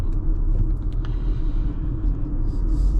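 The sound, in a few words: road noise from winter tires in Mazda CX-5 SUV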